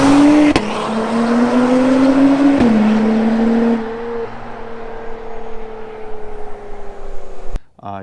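A 2021-or-newer Acura TLX Type-S with an ATLP active quad exhaust system revs and drones loudly, the engine note stepping through gear changes, then easing to a quieter idle-like hum before a sharp cutoff.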